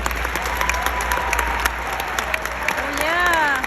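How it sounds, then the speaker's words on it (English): Graduation ceremony audience applauding the class salutatorian, a dense crowd clapping with scattered sharp claps and a cheer or whoop rising near the end, heard over a low steady hum. "Let's give her a round of applause."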